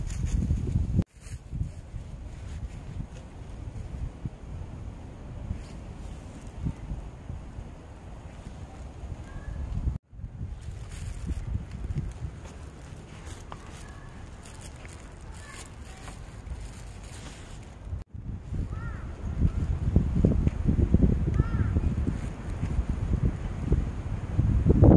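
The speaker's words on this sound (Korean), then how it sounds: "바람이 많이 부네." Strong wind buffets the microphone outdoors with a constant low rumble and gusts, growing heavier toward the end, with a few brief dropouts.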